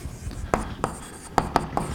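Chalk or marker taps and strokes on a lecture board as an equation is written in a special relativity lecture, several sharp separate knocks over a quiet room with faint background.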